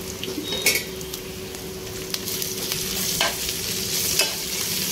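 Ginger garlic paste fries with onions and curry leaves in a pan, giving a steady sizzle broken by the scrape and clink of a spoon stirring against the metal, with no voices.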